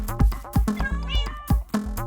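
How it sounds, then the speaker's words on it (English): A rescued cat in a video game meows loudly and close several times in quick succession, each meow rising and falling, with no other sound between. "this is just this stupid cat that I rescued over there in the cliffs over there"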